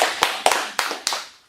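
Four sharp, separate hand claps at a steady pace from an audience at a meditation and humanities lecture, close and fairly loud, each decaying quickly, with no talk.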